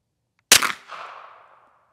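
A KRISS firearm fires a single sharp, loud shot at an outdoor tactical shoot, followed by a short reverberant tail that fades within about a second; no voices are heard.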